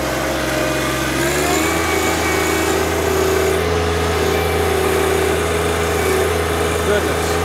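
Compact John Deere 1025R tractor engine revving up to full throttle, a steady loud drone that rises in pitch after about a second and then holds, close by, with voices talking over it.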